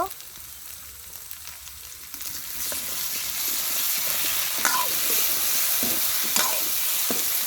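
Steady crackling sizzle of well-browned potatoes frying in a pan, with occasional scraping stirs, close and fairly loud, no voices.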